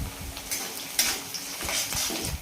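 Shallots sizzling in hot oil in a pan for a carrot fry, a steady frying hiss broken by a few sharp scraping stirs and utensil clinks, close and without talk.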